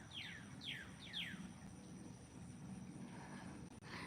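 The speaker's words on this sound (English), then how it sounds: "You can hear the other birds are still out." Wild birds call outdoors, giving several quick, high descending chirps in a row early on before fading into quiet background ambience, faint and somewhat distant, with no speech.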